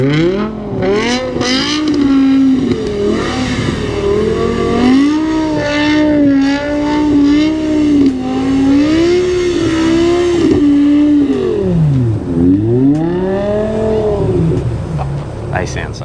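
A car skids on a grass skid pan, its engine revving hard in long rising and falling wails, loud and close, with brief dips and surges as it slides, while people talk over it.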